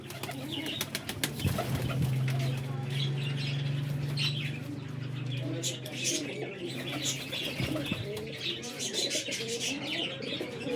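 Pigeons coo and flap their wings close by, a young female flight pigeon among them, with a soft steady coo, bursts of wingbeats and chirps, and someone talking over it.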